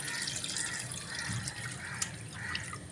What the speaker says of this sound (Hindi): ये 1 लीटर जो ना पानी जाएगा